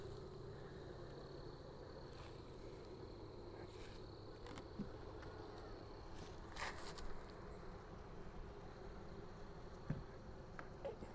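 Honeybees buzzing around a hive while someone handles them, a faint steady drone with small bursts of nearer wingbeats and a few soft clicks and rustles, no talking.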